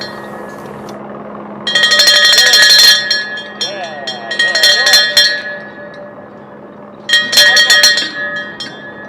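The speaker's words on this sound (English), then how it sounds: "Those were some enthusiastic bell rings right there." Crew members clang a bright bell before boarding the Blue Origin New Shepard rocket, three bursts of rapid metallic ringing with sustained shimmering tones, loud and near, separated by quieter stretches of background hum.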